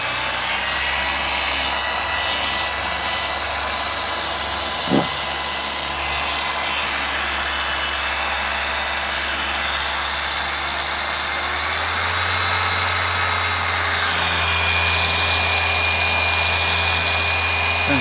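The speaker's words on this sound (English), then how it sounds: "Listen to that rotary screw compressor." Rotary screw air compressor running in a workshop, a loud steady droning hum that holds throughout, with a brief knock near the start and a deeper tone shift partway through, no talk.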